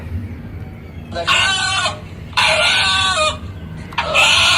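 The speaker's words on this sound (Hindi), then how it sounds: "मुर्गे से भी सुन लो।" A rooster crows three times in quick succession, loud and near, each call a strained, raspy burst over a low ambient hum.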